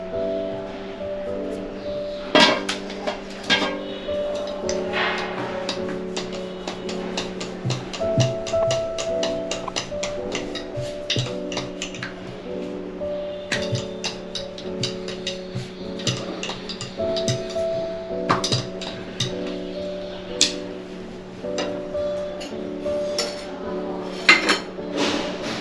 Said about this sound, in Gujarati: જો હવે આપણે પરોઠા વણવાની શરૂઆત કરીએ